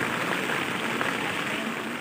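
Very heavy rain from a typhoon pours down steadily on a rooftop during severe flooding, a dense, continuous roar with no breaks and no voices.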